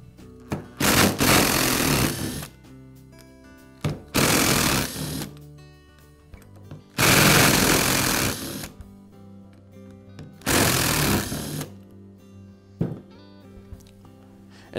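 A power driver removes the four screws that hold the lower gearbox half of a Metabo angle grinder to the upper half. Four loud, separate whirring bursts of about a second each are broken by quieter pauses.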